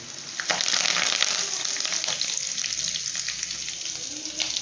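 Curry leaves hitting hot oil in a pan for a rock fish curry, a steady crackling sizzle that stays moderately soft and continuous.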